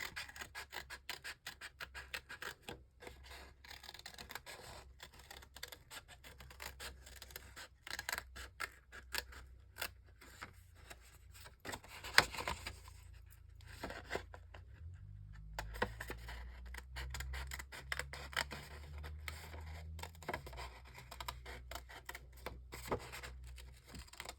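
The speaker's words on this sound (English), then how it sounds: "if you're bad at cutting like this, it's fine because you just put some trim around it" Scissors snip paper around curves in a quick run of close, crisp cuts, steady for long stretches with short pauses; a low hum sits underneath, and no one speaks.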